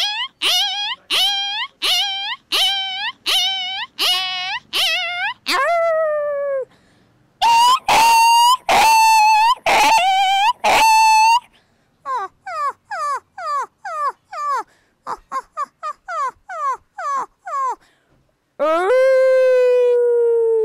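A woman imitates several dogs, voicing a string of sharp barks and yips, long wavering howls and whimpers in bursts one after another, loud and close with no other sound behind them.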